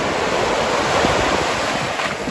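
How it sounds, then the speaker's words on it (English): Powerful surf at a Punta Cana beach, a continuous heavy roar of breaking waves and churning water, loud and close with wind rumble on the microphone and no voices. "It's probably dangerous to go back in with a camera because the waves are so powerful"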